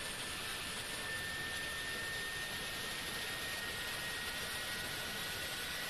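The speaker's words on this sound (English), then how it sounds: "the APU's almost done spooling up. You can hear how loud it is out there." The APU of an iniBuilds A310 airliner in Microsoft Flight Simulator at Heathrow, a loud, steady turbine roar and hiss with a thin high whine, unbroken throughout.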